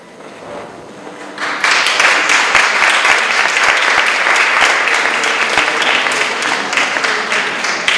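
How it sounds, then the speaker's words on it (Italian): Audience applause at an Italian cultural associations festival, a dense sustained clapping that swells in after a quiet start and continues steadily, close and loud. "Un applauso solo merita proprio"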